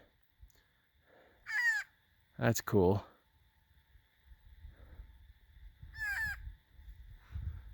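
A crow caws on a snowy Rocky Mountain trail in Colorado in winter, two harsh, ragged calls a few seconds apart at moderate distance, with a brief spoken remark between them and footsteps crunching quietly.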